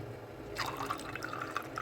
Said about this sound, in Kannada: ತಣ್ಣ ನೀರು ಹಾಕಿನಿ.